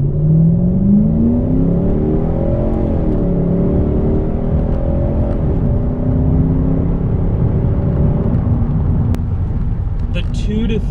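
A Toyota/Lexus car with an upgraded valve-body transmission accelerates at half throttle, its engine whirring loud and close with a steady rising drone and shifting pitch through the gears.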